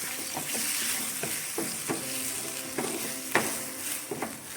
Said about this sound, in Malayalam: ഇനി നമുക്കിതിനകത്തിട്ട് നന്നായിട്ട് ഒന്നുകൂടൊന്ന് വഴറ്റിയെടുക്കാം